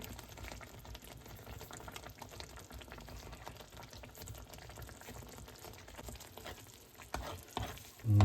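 Homemade pizza sauce cooks in a pan with a soft, continuous sizzle and faint bubbling, broken by quiet stirring scrapes, with a louder clatter right at the end.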